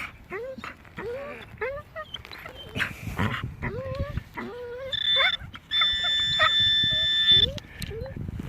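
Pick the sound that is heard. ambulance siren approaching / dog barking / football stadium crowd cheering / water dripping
dog barking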